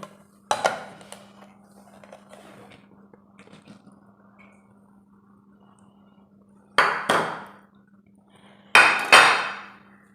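Metal dish clinks and taps ring out in a quiet kitchen while milk rava pudding with sugar caramel is demolded into a serving dish, with a soft hum beneath and two bursts of clattering near the end.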